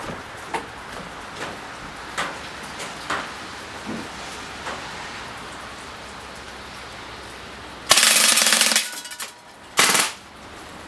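A ZMZ Tyrex PPA-K-01 BB machine gun powered by a CO2 cartridge fires scattered single shots at first, then two loud hissing full-auto bursts near the end, close and without talk.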